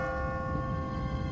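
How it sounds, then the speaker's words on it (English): An automatic church bell rings in a video game's empty city, a sustained resonant tone with ringing overtones, fairly loud and steady over a low background hum. "What kind of church bell goes off at 20 past the hour?"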